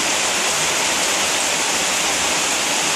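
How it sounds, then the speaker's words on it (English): Steady heavy rain pounding on a tin porch roof, a dense, unbroken hiss that stays loud and close throughout, with no talking. "Let the rain slow down a little bit."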